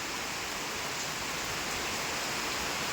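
Steady, dense rain falls as a broadband hiss with no breaks, fairly faint and unbroken throughout, with no voices over it.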